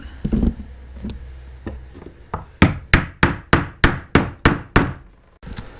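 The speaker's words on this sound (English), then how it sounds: "you have to hammer it on with a mallet to get it nice and snug" A run of about ten sharp, evenly spaced mallet blows rings out close by, preceded by a few softer, irregular knocks, hammering a fitting snugly onto a Pelican Bass Raider boat.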